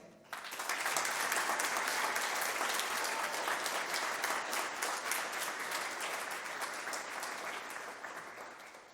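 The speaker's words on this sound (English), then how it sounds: "one more big round of applause" An audience at a high school spring band concert breaks into applause for an award recipient, a sudden onset of sustained crowd clapping that stays full and even before slowly easing toward the end.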